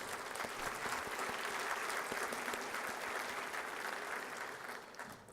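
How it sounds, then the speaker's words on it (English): A big round of applause at a 2019 State of the City address honors a retired police chief, a soft, distant roomful of clapping that stays steady and then slowly tapers off. "giving him a big round of applause and thank him for his service"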